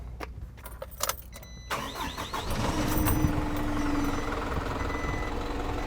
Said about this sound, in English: Step 3, start the truck.